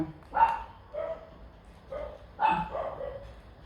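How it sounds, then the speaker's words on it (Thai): Pomeranian at home barking shrilly at passers-by, a few sharp high yaps in two short bursts, close and loud in a quiet room. "แสบแก้วหูหมาปอมนะ"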